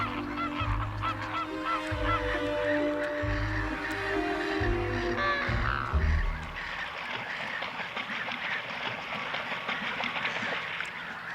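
A flock of cranes calls in a loud, continuous chorus of overlapping honking cries, with a steady low rhythmic rumble under the first half that drops away near the six-second mark while the calling carries on.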